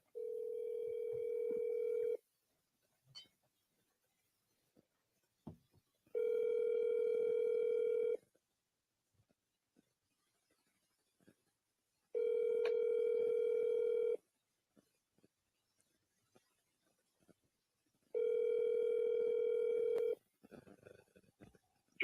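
Phone ringback tone sounding four times in steady, evenly spaced two-second bursts with silent gaps between, clear and moderately loud, with faint handling noises in the pauses as a call connects before voicemail.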